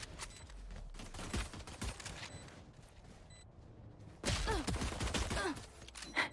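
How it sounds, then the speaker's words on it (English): Pistol gunfire during a round of the tactical shooter Valorant, with several rapid bursts of shots and a dense flurry near the end, fairly faint overall and with no talk over them. "pistol battles coming out"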